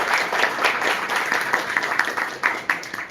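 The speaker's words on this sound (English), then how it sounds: "Maybe let's give a small round of applause for all of you." A short burst of audience applause at the Wireframed 2024 event, dense clapping from a room of attendees, fairly close and steady with a few sharper claps near the end.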